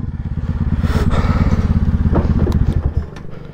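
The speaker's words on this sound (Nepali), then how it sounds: "के हो ट्र्याक्टरै ल्याए है बुढोले त" A tractor engine runs close by with a loud, even chugging thump that pulses rapidly and steadily, then eases off slightly near the end.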